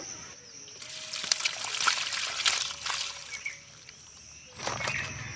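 Water drips and trickles as freshly washed fish are shaken off in a kitchen, uneven splashy bursts near the start and middle, a quiet pause, then another burst of dripping.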